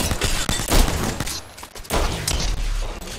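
Enemies sniping during a match of the video game Apex Legends: loud rapid bursts of gunfire crackle almost continuously, with a brief lull midway before the shots resume densely.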